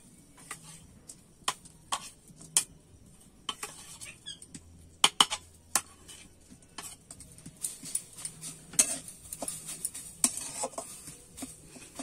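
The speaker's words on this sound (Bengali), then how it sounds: "আমি একটু নেড়ে চেড়ে নেব।" Grated water chestnut stirred in a wok over a stove for pulli pitha, with irregular sharp clinks and scrapes of a utensil against metal at varying intervals over a quiet background.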